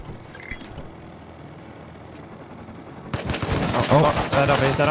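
Rapid automatic gunfire in the survival video game Rust, dense bursts of shots that start abruptly partway through and stay loud to the end, with a voice speaking over it.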